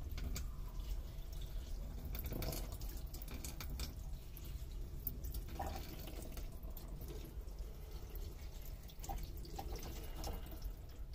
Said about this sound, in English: I just poured a whole bottle of water.